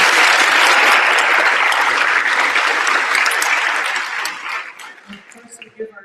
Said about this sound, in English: Another amazing round of applause for Seafood Peter Wong and the Lion Dance team.